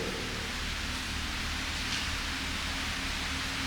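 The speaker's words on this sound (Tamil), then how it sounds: "வெளியே மழை வந்து செமையாக ஸ்டார்ட் ஆகிடுச்சு" Heavy rain pouring outside at night in Mumbai's Aarey Colony: a dense, constant hiss of falling water, loud and unbroken from start to finish.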